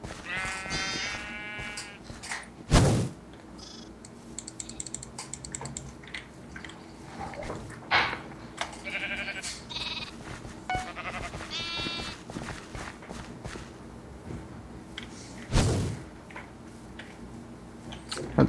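Sheep in a video game bleat in short, wavering cries, repeated several times against a busy background of clicks and squishy game sounds, with a couple of loud thumps.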